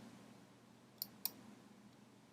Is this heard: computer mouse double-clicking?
yes